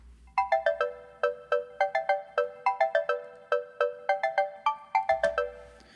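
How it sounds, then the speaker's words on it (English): A tropical synth patch with a steel-drum-like tone plays solo, bouncing through a quick, syncopated melodic pattern of bright plucked notes, each decaying quickly, clear and close with no voices. "So just like a really tropical kind of sound, kind of reminds me of a steel drum a little bit"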